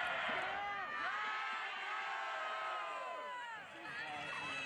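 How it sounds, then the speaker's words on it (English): A soccer stadium crowd at a USL match between the Rochester Rhinos and the Pittsburgh Riverhounds keeps up a continuous, loud wash of cheering and shouting, with whistle-like tones rising and falling above the roar. "Crowd starting to get into a little bit here"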